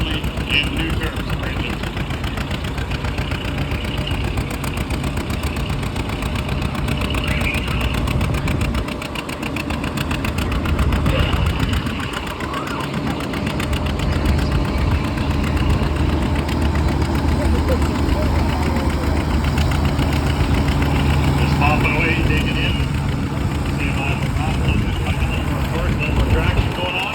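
Engine of a 1953 tractor at a tractor pull, with extra cubic inches of displacement around 8.4 liters, a loud continuous deep pumping roar lasting throughout, with people talking over it.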